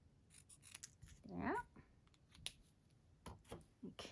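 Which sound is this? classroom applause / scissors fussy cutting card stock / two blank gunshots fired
scissors fussy cutting card stock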